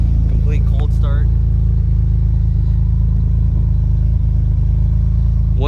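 A turbocharged 2006 Honda Accord with a J32A3 engine idles loud and steady just after a cold start, a constant low rumble, with someone talking briefly near the start.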